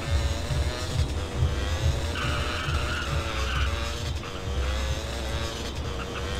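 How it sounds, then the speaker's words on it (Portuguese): A car drives past in front of a house, heard in a game as a steady, loud engine and tire rush with a skidding, squealing edge that fills the whole stretch. "Acabou de passar um carro aqui na frente de casa, com som alto"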